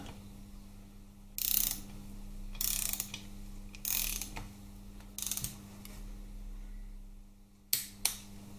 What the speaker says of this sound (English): Torque it down in stages, obviously.